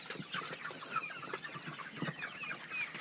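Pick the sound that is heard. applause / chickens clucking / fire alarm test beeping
chickens clucking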